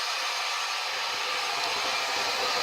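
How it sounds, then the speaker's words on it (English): A blow dryer running steadily at close range while smoothing the ends of styled hair, a continuous loud whooshing roar with no voices. "I'm now going to smooth down any ends with the blow dryer"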